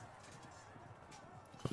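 Horses of medieval knights' cavalry in the Field of Glory 2 battle game, a faint muffled clip-clop of hooves under a dense background wash, with a brief thump at the end.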